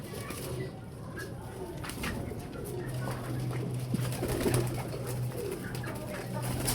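Pigeons of the Hino breed coo softly in a pigeon house, low murmuring calls under steady background hiss and faint ambient noise, with no clear talk.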